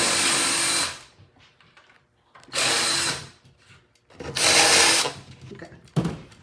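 A small step drill bit boring a hole for yard art lights, heard as three loud, close bursts of power-drill whine, each about a second long, with quiet pauses and light handling between them.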